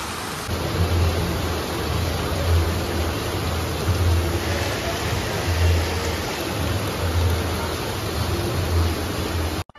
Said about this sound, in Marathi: पावसाने पूर्ण वाट लावून टाकली दिवाळीची